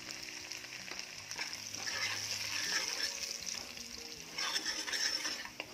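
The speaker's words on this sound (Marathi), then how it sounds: "मसाला छान परतून घ्यायचा आहे" Kolhapuri onion-garlic masala fries in a pan, a soft, close sizzle with occasional stirring scrapes and gentle clinks that swell and ebb.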